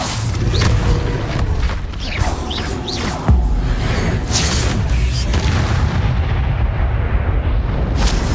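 The Incendio fire spell goes off in Hogwarts Legacy with a loud roaring burst of flame and booming impacts, crackling fire and rumbling blasts layered continuously through the clip.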